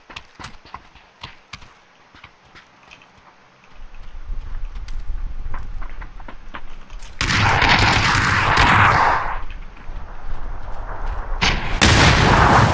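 Gunfire and a missile blast in the PUBG battle game: scattered sharp shots, then heavy sustained explosive roars and rumbling that swell loudly and fade before another burst near the end.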